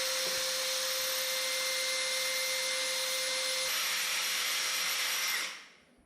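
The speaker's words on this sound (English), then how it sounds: "We're just using a special tile drill bit to drill through." A power drill fitted with a tile drill bit bores through tile with one continuous, loud, steady whine that holds for several seconds and then winds down and stops.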